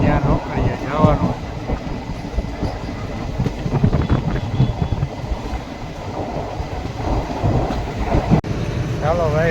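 A Vande Bharat express train runs between Rajkot and Veraval with a continuous heavy rumble and rattle of carriages. Voices talk over the noise at times and brief rising whines come and go.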